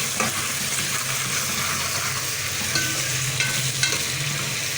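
Ginger, garlic and green chili fry in hot oil for mutton karahi, a steady, dense sizzle at close range with a few faint stirring clicks and no talk.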